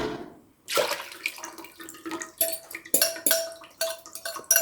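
Sugared pickle brine for bread and butter pickles poured from a container into a pan, a close splashing pour with liquid trickling, interrupted by several clinks and scrapes of cookware.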